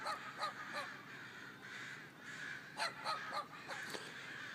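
A large flock of crows caws loudly around a tree, with repeated overlapping harsh calls in bursts against a steady background of smaller birds chirping.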